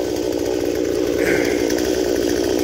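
An 18-inch chainsaw bites through a huge oak trunk about 38 inches across, its engine roaring loud, close and unbroken under full load.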